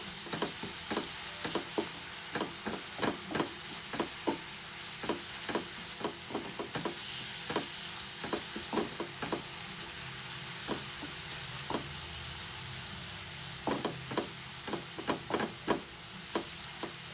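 Ginger garlic paste fries in a pan with a steady sizzle and hiss, while a spoon repeatedly scrapes and stirs in irregular bursts that come clustered, pause briefly, and resume.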